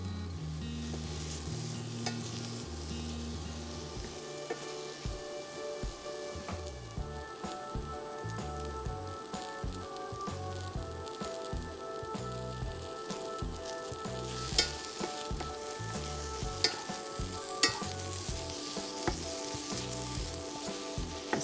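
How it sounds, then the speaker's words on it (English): Eggplant pieces fry in hot oil in a pan, giving a continuous sizzle. They are stirred now and then with scraping clatters, and a few sharper clinks of the utensil come close by. "when you're frying, make sure to stir from time to time so it'll be cooked evenly on all sides"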